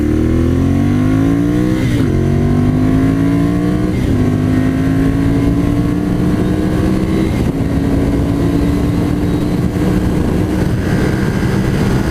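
A 2014 Ducati Monster 796 motorcycle engine runs at low RPM while riding, its loud, close engine note climbing and dropping through several gear shifts over a steady rumble.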